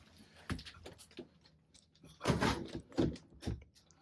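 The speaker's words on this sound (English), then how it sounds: "And notice how the drawers are soft closed." Several soft thumps and light knocks of wide, deep soft-close wardrobe drawers sliding shut in an Avalanche 390DS RV bedroom, scattered quiet bumps with one fuller cluster midway, no talk.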